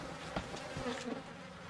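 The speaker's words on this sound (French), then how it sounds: "Oh, des mouches." Flies buzz in the horror video game Outlast, a soft, steady insect drone with slight wavering in pitch, fairly faint and unbroken, with no talk over it.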